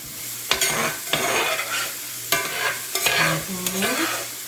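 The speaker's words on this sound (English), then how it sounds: "All right, let's stir it now." Garlic sautéing in butter and oil for a Caribbean-style split pea soup, a steady close sizzle broken by repeated sharp scrapes of a spoon stirring the pan, with no talking.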